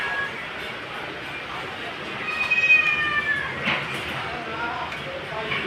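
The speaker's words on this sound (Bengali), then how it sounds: "তোরা ম্যাও ম্যাও থাক" A cat meows a few times in a drawn-out, tonal call that is loudest midway, set against steady background noise with no speech.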